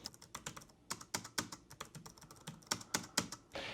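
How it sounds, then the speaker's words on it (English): Typing on a Logitech Pop Icon Keys travel keyboard: soft, slightly mushy key presses in an uneven stream, quiet and close, with a few sharper clacks from the spacebar edges. "The slight mushiness does make the Pop Icon a mostly very quiet keyboard, though the edges of the spacebar can betray that serenity a bit."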